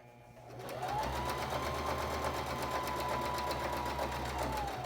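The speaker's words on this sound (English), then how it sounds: "you're going to start with a 1/4 inch stitch on the top side of the mask" A sewing machine stitches a quarter-inch seam along the top edge of a cloth face mask, starting after a brief pause and then running at a fast, steady, close whir.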